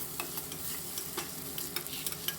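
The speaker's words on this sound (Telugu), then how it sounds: "ఒక స్పూను అల్లం వెల్లుల్లిపాయ పేస్ట్ కూడా వేసి బాగా వేగనిద్దాము" Onions fry with a spoonful of ginger-garlic paste in a pot, a soft low sizzle with a few light stirring clicks, quiet and without voices.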